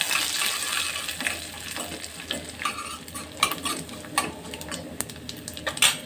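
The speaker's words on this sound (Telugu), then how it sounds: "నువ్వులను కూడా మంచిగా వేయించాలి." Sesame seeds and garlic frying in a pan for a potato dosa, a steady sizzle with stirring scrapes and occasional spoon clinks against the pan, close and fairly loud, no talking.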